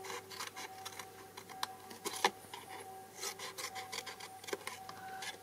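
Paper being cut with a blade for a handmade gift box, a quiet rasping, scraping stroke repeated in short irregular bursts close up over a faint electrical hum.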